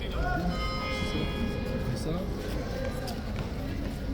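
A bell rings during a crowd-controlled King's Guard ceremony, its steady tonal partials ringing through loud outdoor crowd chatter that persists across the whole stretch.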